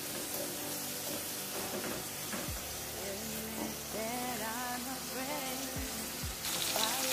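Food frying in fat in a home kitchen pan, a steady broadband sizzle running throughout at moderate level with occasional clinks and faint voices in the background.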